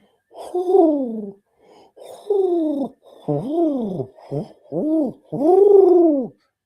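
A human voice imitates owls with a series of wavering hooting calls, each rising and falling, loud and close with short pauses between.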